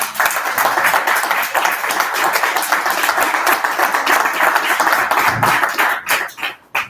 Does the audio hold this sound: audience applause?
yes